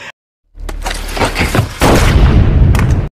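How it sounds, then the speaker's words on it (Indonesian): A loud burst of gunfire with booming, rumbling echoes that build and sustain for a couple of seconds before cutting off abruptly. "Walaupun begitu, tetap saja Alfonso menghukumnya dengan sebuah tembakan."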